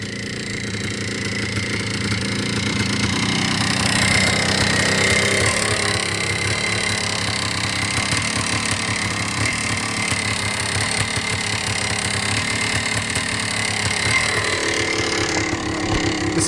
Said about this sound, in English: Just crack the throttle in third gear, low RPM, front end comes right up.